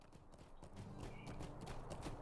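Horse hooves clip-clopping at a steady gallop in the Lord of the Rings Online video game, fairly quiet and continuous across the moment with a faint game background.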